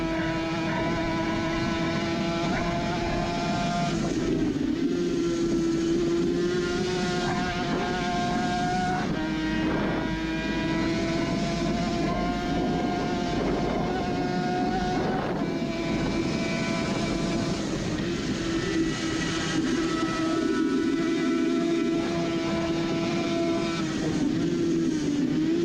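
Onboard a Suzuki RG500 racing motorcycle on the Isle of Man course, the two-stroke engine wails steadily at high revs, its pitch rising and falling through gear changes over a long, continuous run with rushing wind.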